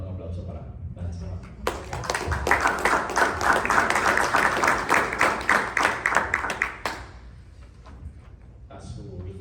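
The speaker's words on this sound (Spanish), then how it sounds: "Por favor, un aplauso para Vanessa." A conference audience bursts into steady applause for several seconds, then it fades out; voices can be heard before and after the clapping.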